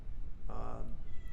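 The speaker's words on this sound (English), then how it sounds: "you can hear my cat crying upstairs" A domestic cat crying somewhere upstairs, one drawn-out muffled meow heard faintly through the house over a low indoor background.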